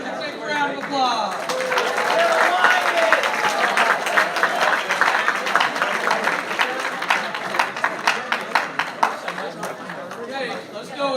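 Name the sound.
applause for the juniors at an awards ceremony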